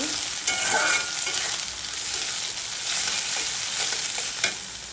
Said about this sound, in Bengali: এখন ঢেঁড়স ভাজিতে পেঁয়াজ দিয়ে দেব আর দুটাকে দিয়ে মরিচ দিয়ে দেব এইগুলা সুন্দর করে একটু ভেজে নেব